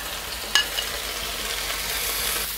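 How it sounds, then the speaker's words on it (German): Burger patty and onions fry in a pan with a steady, close sizzle and crackle, marked by one brief clink of a utensil near the start. "die Zwiebeln salzen und dann durchziehen lassen für Natura bzw. mit in die Pfanne geben und auch karamellisieren lassen."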